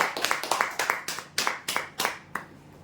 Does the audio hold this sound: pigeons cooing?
no